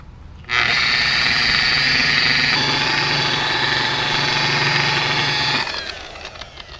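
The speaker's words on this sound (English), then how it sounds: "This is a real buffer." A handheld electric buffer polishing car paint on a leased car starts abruptly and runs at a loud, steady whine for about five seconds, its pitch shifting slightly midway, then spins down to quieter clatter.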